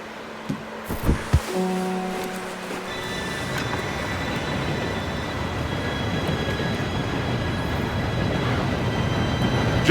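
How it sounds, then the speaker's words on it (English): An approaching train in Red Dead Redemption 2 rumbles steadily louder after a few brief knocks and tones, its low rolling noise building without any talk. "Train should be here any minute now."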